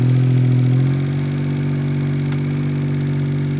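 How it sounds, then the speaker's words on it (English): Small Daihatsu Mira kei car engine idling with a massive exhaust leak from a rusted-off exhaust, a loud low throbbing drone that drops to a steadier lower idle after about a second. "Wow, massive exhaust leak."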